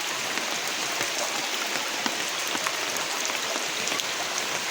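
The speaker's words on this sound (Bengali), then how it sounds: "আমরা বৃষ্টিতে এখন বসে আছি" Rain falls steadily on a flooded village during a wet morning, a soft even patter with scattered drops, moderately faint and without speech.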